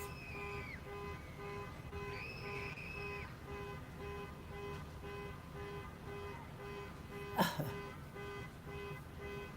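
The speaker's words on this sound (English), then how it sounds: "That's an alarm, a car alarm going," A car alarm sounds faintly at a distance near a Broadway beachfront by a Skywheel, giving steady repeating tones and warbling pitch bends within low ambient noise, with a brief louder whoosh near the end.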